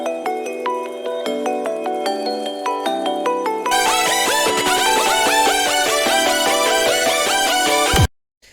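Electronic dance track section with a bright synth bell melody of evenly stepped notes, then a dense rapid arpeggiated synth pattern with bass joining, loud and steady before stopping abruptly into silence.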